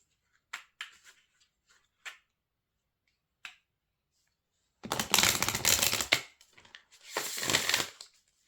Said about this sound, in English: Now we're going to get into the Ascension Oracle cards here.